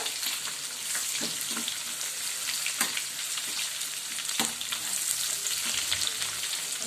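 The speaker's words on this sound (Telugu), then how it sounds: "ఇప్పుడు టమాటో యాడ్ చేసేసుకున్నాం ఇవన్నీ మనకి మంచిగా ఫ్రై అవ్వాలి" Onions, ginger and tomatoes frying in a pan for tomato bath, a continuous close sizzle broken by occasional scrapes and knocks of a stirring spoon.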